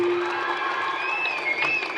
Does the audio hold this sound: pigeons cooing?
no